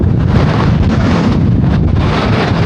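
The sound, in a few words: stormy wind and rain at sea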